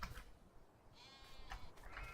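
Sheep in a farming video game bleat in a few short, faint calls over a low background rumble, with no one talking.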